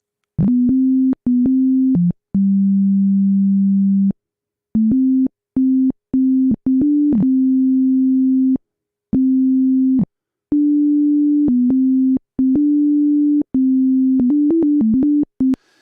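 Sung vocal take converted to MIDI and played back as plain synth tones, a string of steady sine-like notes stepping between nearby pitches in short and held phrases, separated by clicks and brief gaps.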